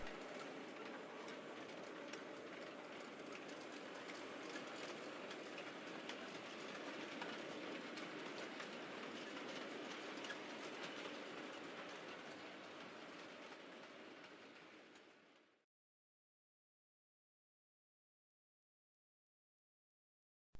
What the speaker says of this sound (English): like this class 4 on the fitted running through the up main in the storage sidings